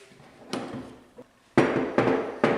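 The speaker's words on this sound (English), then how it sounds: "so I have to pound it with the hammer a little bit" A hammer pounds a tight 8mm drill bit during a laser engraver build: about five sharp, fairly close strikes, with a faint tap followed by three louder blows in quick succession.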